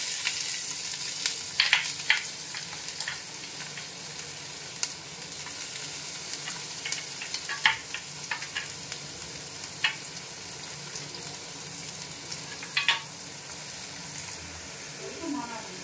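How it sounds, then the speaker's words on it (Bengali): Whole garam masala, dried red chillies, bay leaves, cumin and ginger-garlic fry in hot oil for Bengali chana dal, a steady close sizzle broken by crackles and occasional spoon scrapes. "এবার এর মধ্যে ওই তেলটাতেই দিয়ে দেবো গরম মশলা, গোটা গরম মশলা, শুকনো লঙ্কা, তেজপাতা আর জিরে। এবার দিয়ে দিচ্ছি আদা রসুন"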